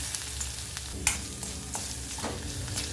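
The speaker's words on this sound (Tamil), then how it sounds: "வெங்காயம் நல்லா வதங்கட்டுங்க" Finely chopped onions soften in a pan with mustard seeds, dal and curry leaves for pearl millet kuzhi paniyaram, giving a constant close sizzle with a few light stirring taps, no speech.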